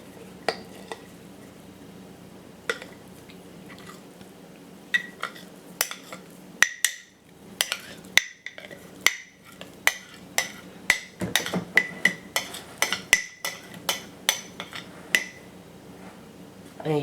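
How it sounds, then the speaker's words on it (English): A spoon stirs a gassy fermented sourdough starter of unbleached flour in a container, giving repeated sharp clinks and taps against the sides over a low wet churning, irregular and close, with faint talk. "You stir your sourdough starter"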